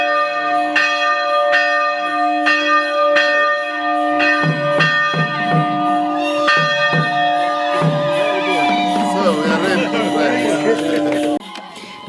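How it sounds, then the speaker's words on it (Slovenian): A church bell rings to open a celebration, a run of loud, evenly spaced strikes with long ringing tails, later joined by crowd noise and cheering voices. "Uradni začetek praznovanja je naznanil zvon, na katerega je z velikim veseljem prvi pozvonil sam gospod škof."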